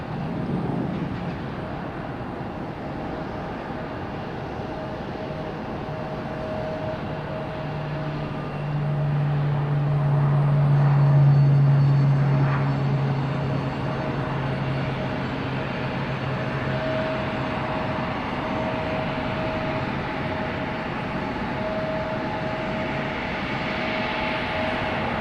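An airliner taxiing at Raleigh Durham International Airport gives off a steady, distant engine drone with a faint tone running through it, swelling somewhat louder partway through before settling back.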